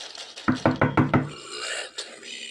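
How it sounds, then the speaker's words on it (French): A wolf knocks on a wooden door in a horror video game, four sharp raps in quick succession, followed by a faint scraping sound. "Puis il toque sur la porte,"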